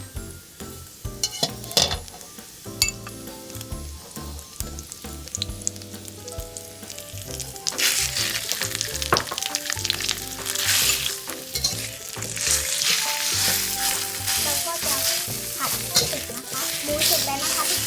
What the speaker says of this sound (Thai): ต่อไปใส่หมูสับลงไปนะคะ